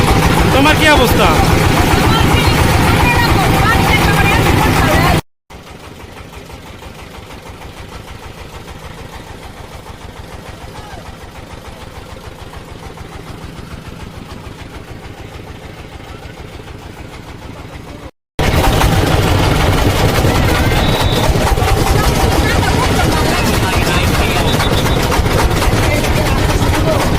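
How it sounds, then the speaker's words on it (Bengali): A trawler boat's engine drones on a river near Bholaganj Sada Pathar in Sylhet, a loud continuous motor hum that dips quieter in the middle, with people talking over it. "আমরা এখন বর্তমানে ট্রলারে আছি।"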